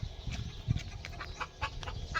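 Scattered clucking calls from chickens at a moderate distance, several short squawks over a low outdoor background.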